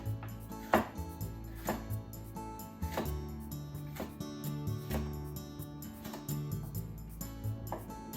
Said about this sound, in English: So red pepper, cut it into half. Remove the stem and the pith. Then into sticks.